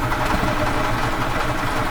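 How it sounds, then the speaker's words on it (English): A gas-powered 2008 EZGO TXT golf cart engine runs steadily after being cranked over, a continuous close mid-low engine drone with even vibration throughout. "Now what I'll do is I'll crank the engine over."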